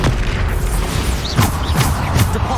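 Bombarda spell blasts in Hogwarts Legacy combat: several short booming explosions burst in quick succession, loud and close, layered with whooshing spell effects and no talking.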